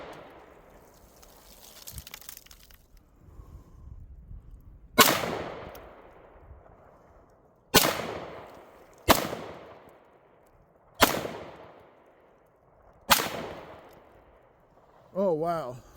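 Canik TP9SF pistol fired outdoors in five sharp, loud shots spaced about one to two seconds apart, each with a decaying echo tail, after a stretch of quieter handling noise.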